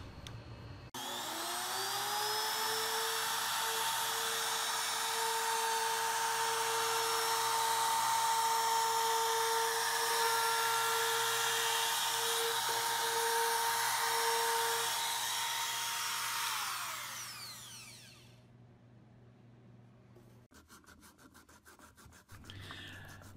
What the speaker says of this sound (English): So we're sanding this up